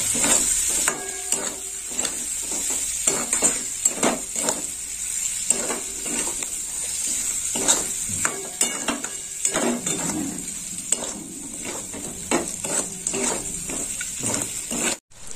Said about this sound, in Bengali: চিংড়ি মাছটা একটু মশলার সাথে কষে নেব।